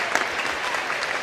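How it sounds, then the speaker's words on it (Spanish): A studio audience on a television talk show applauds to welcome a gynecologist guest, a brief burst of steady clapping heard alone. "Lo recibimos con este aplauso, doctor."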